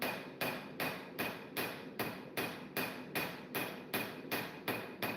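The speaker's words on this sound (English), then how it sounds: "Still trying to work on the bevel, get them hammered down, get everything straightened up." Steady hammer blows on a knife bevel during a first attempt at forging a blade, about twelve sharp metallic strikes in an even rhythm, close and clear with no talk.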